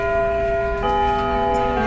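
School bell in a visual novel video game, a sustained resonant tone ringing clearly and steadily with no voices.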